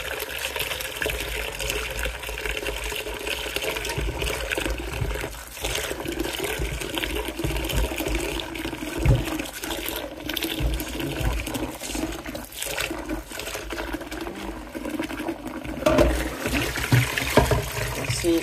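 Running water from a tap splashing over langoustines being washed, a steady close gush and trickle with some clatter and shifting throughout.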